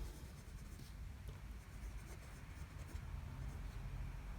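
A Pineider Avatar Ultra Resin fountain pen writes on Clairefontaine paper, giving a steady, faint scratchy rustle of nib on paper that runs continuously and close up throughout, with no talking.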